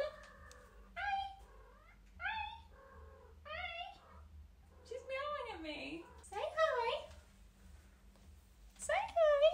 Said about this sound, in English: She's meowing at me.